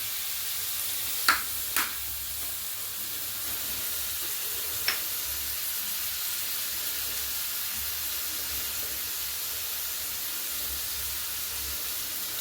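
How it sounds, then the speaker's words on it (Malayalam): Bean curry sits in a pan under a steady soft hiss of steam and sizzle, broken by two or three brief scrapes of stirring early on. "നന്നായിട്ട് ഇളക്കി കൊടുക്കാം."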